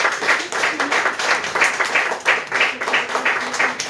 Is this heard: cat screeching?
no